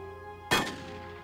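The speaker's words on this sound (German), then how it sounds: "Ein Schuss und beseitigt." A single sharp gunshot in a D-Day battle game, one loud crack that cuts through a steady hum of background music and then decays quickly.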